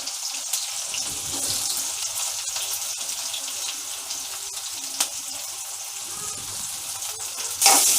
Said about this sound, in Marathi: छान कांदा असा परतून घ्यायचा मऊ होईपर्यंत